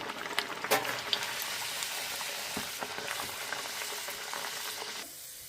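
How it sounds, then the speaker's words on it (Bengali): Green pea kachori fry in hot oil with a soft, bubbling sizzle and scattered crackles, a louder pop near the start, the whole sound close but fairly quiet and thinning out at the end. "এবার তেলের মধ্যে ছেড়ে দিচ্ছি"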